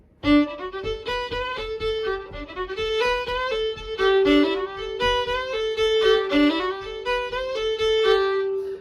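A solo fiddle plays a brisk polka tune, bright bowed notes in a steady bouncing rhythm, close and fairly loud with no voices.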